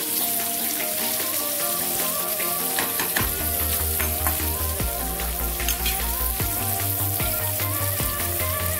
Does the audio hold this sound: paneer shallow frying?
yes